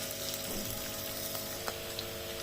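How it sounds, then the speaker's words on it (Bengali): Onions fry in oil in a kadai while cooking aloo dum, giving a steady, close, broadband sizzle with a few faint stirring clicks and no talking. "পেঁয়াজটা আমার ভাজা ভাজা হয়ে গেছে"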